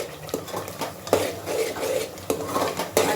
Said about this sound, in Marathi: आता ते मस्त आपण परतून घेऊ.